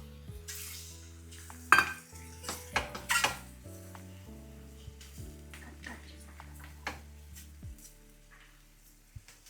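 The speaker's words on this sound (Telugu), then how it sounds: "ఇప్పుడు బాయిల్డ్ ఎగ్స్ వేసేయండి" Boiled eggs are dropped into garlic masala in a pan, giving clinking and knocking of utensils against the pan over a faint sizzle, with a few sharp clattering hits early and a voice talking throughout.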